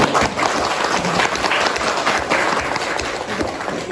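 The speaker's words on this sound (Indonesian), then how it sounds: "tepuk tangan dulu untuk puskesmas" An audience at a re-accreditation survey event for a community health centre (puskesmas) in Brebes breaks into loud, sustained applause, a dense wash of many hands clapping at once, close and unbroken.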